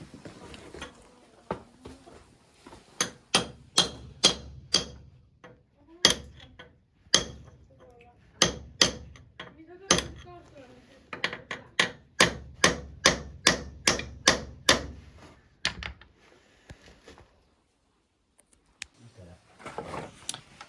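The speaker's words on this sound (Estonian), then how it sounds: "Proovime haamri ja sellega natuke lahti lüüa." A hammer strikes an engine part to knock it loose during engine removal: loud, sharp metallic blows in quick runs of several hits, separated by short pauses, then a quiet stretch near the end.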